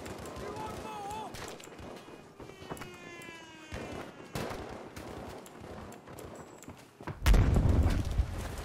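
Battlefield 5 combat on the Narvik map: scattered gunfire cracks and distant explosions with a heavy close blast near the end, running continuously as a battle backdrop without any speech.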